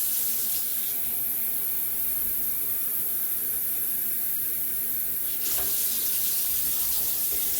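Water runs steadily from a tap into a crock-pot as a continuous hiss, changing pitch briefly near the end as the flow shifts.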